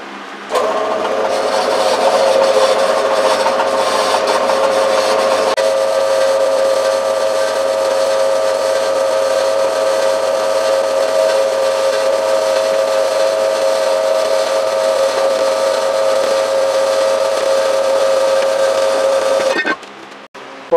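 A metal plate is cut with a power tool, giving a loud, sustained, high grinding whine with a steady pitch that lasts about twenty seconds at close range before it cuts off abruptly.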